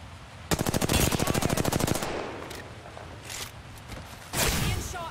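Rapid automatic gunfire bursts out in Apex Legends, a fast rattling stream of shots for about a second and a half, followed by scattered fainter shots and a final loud burst.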